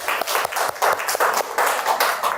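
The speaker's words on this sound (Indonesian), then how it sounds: "Kita beri aplaus dulu teman-teman ya." Applause from a group of teachers at a school workshop, steady clapping from a modest crowd lasting a couple of seconds, close and fairly loud with no talk over it.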